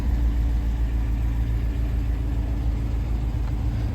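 A 2022 Jeep Wrangler Rubicon 392 engine runs with a deep, steady, close rumble, heard alone without talking.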